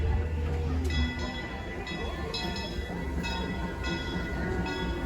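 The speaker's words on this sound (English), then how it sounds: "the train's coming in" The Disneyland Main Street train rolls in with a low rumble, then a string of bright metallic bell-like rings and chimes repeating at intervals, heard amid crowd background.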